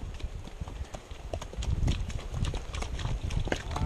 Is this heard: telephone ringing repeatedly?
no